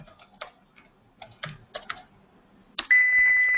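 Someone types a name on a computer keyboard in a quiet room, a handful of irregular, crisp key clicks spaced apart, followed by a sharp tap and a sustained electronic tone.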